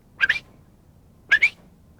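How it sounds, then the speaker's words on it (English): A curved-billed thrasher in the Sonoran Desert gives two sharp, quick whistled calls about a second apart. Each is a bright, doubled note, fairly close and clear against a quiet background. "there's another bird that's sort of a quick whistle"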